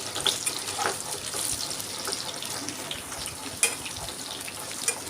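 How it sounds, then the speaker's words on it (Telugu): Drumstick pieces fry in hot oil, producing a steady, moderately loud crackling sizzle with scattered pops throughout. "నూనె వేడాక ఇందులో ములక్కడలు వేసుకొని ముందుగా ఒక రెండు లేదా మూడు నిమిషాల పాటు వేయించుకోవాలి"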